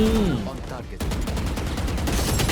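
Rapid gunfire from a first-person shooter game, a dense run of sharp repeated shots after a brief tonal sound at the start, steady and fairly loud with a faint voice in the background.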